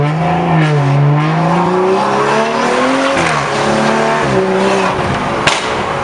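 Turbocharged BMW M235i engine revving hard near peak boost after new spark plugs and coil packs, a loud sustained droning roar with rising and falling pitch sweeps, close up and without speech.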